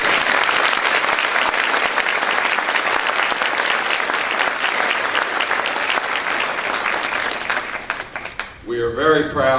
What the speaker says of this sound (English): Let's give all of our award winners a round of applause